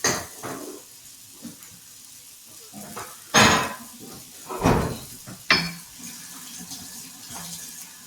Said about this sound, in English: I've got some vegetarian sausage, Italian sausage, which I'm just going to let cook